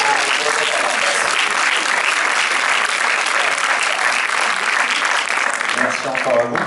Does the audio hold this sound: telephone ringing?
no